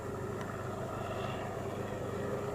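An E-Flite T-28 Trojan radio-controlled airplane flies overhead with a steady, droning engine hum that sounds like a full-size propeller plane, continuous and fairly distant, with no talk.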